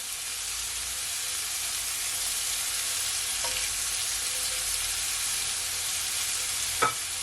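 Fresh thyme and carrot sauté in a hot pan with a steady, dense sizzle, broken by a couple of faint clinks of a utensil, and nobody speaks.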